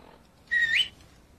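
A single rising whistle, short and clear, calls the dog in the video game Fallout 3, standing alone against near silence.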